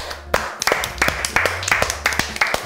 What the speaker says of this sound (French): Et quelle carrière, on l'applaudit.